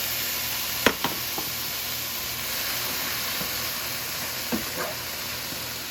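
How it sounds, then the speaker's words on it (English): Onions, peppers and pineapple frying in a pan, a steady, even sizzle and hiss with a couple of brief utensil clacks near the start and toward the end. "just cooking up the peppers and onions"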